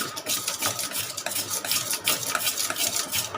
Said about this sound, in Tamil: அதை எடுத்து நல்லா அப்படியே அடிச்சு விடுங்க மாவை ஒரு 10 நிமிஷத்துக்கு